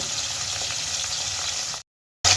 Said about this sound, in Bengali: আমি অল্প অল্প করে মাছগুলো ভেজে নেব